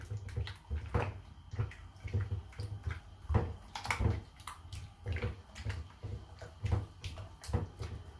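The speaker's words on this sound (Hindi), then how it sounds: "हम हैंड वॉश करते हैं अच्छी तरीके से" Hands washed under running water at a kitchen tap: soft rushing flow with repeated splashing bursts and rubbing as the hands move in and out of the stream, fairly quiet.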